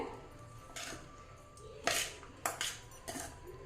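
A spoon stirring ridge gourd, bread, onion and egg mixture in a bowl, a few separate clinks and scrapes against the bowl, close and fairly quiet, with pauses between strokes.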